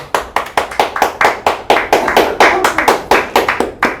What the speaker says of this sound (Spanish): un aplauso para el señor Martín Baró